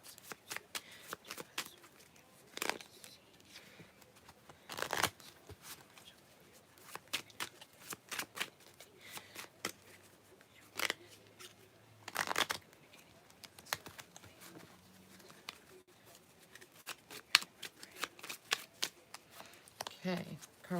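Tarot and oracle card decks being shuffled by hand, four decks in all, producing repeated sharp riffles and soft slaps up close with brief pauses between bursts, while a person talks quietly at times.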